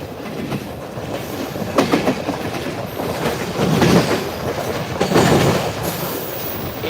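A steam train rumbles along the rails close by, with rhythmic clattering wheels and occasional metallic squeals rising over a steady mechanical roar.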